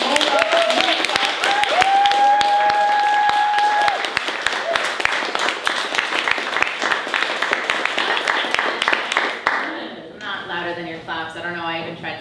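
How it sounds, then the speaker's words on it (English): Loud, sustained applause from a poetry show audience with scattered whoops, fading out as music comes in at the end. "would you all please clap as loud as you can for Mona Mousa"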